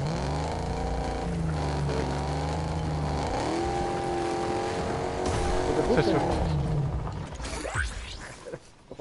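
Mad Max-style cars in a video game, engines revving and roaring with shifting pitch, under steady talk from players.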